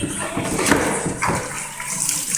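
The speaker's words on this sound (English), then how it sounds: "usually all I got to do is wet it. Got my little sprayer" A handheld spray bottle wets a window pane ahead of scraping, giving two or three short, hissing spritzes over a faint watery background.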